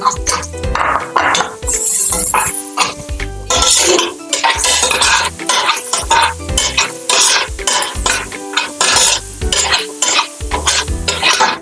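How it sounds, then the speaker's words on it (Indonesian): Ginger and spring onion are stir-fried in a pot for oxtail soup, with a loud close sizzle broken by busy scraping, clanking spatula strokes and metallic clinks in an uneven rhythm. "Sekarang masukkan juga nih jahe, daun bawang, tumis lagi."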